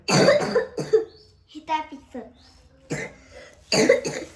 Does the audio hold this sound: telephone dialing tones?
no